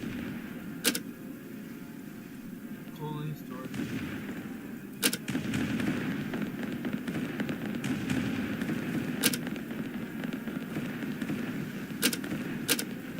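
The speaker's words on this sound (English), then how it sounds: "Lorraine troops taking heavy cannon damage" Cannon fire in a strategy video game battle, sharp booming shots spaced several seconds apart over a continuous rumbling battle din, moderately loud.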